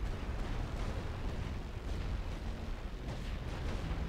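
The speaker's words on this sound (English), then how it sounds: "Tirez avec toute l'artillerie." Artillery barrage in a Great War Western Front strategy game, a dense continuous rumble of overlapping distant cannon blasts rolling without pause.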